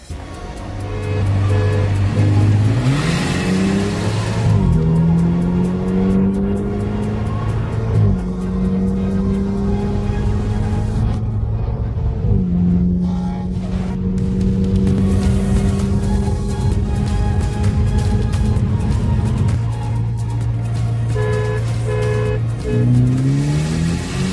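A BMW F30 328 on a Stage 2 tune with intercooler, straight pipe and intake races an Infiniti; its engine roars loudly and steadily, climbing in pitch through several gears with drops at each shift, and no voices.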